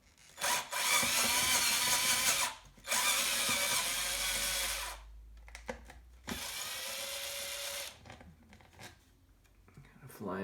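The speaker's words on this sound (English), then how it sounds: "taking screws out of the bottom of the chassis here" A power drill backing screws out of the bottom of an aluminium 1/8-scale RC car chassis, with three loud, close whirring runs of a few seconds each separated by brief gaps and handling noise.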